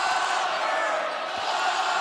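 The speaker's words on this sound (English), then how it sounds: "Crowd chanting flopper" A basketball arena crowd at a Knicks vs Pacers NBA playoff game chants 'flopper.' The sustained, loud mass of voices fills the space evenly throughout.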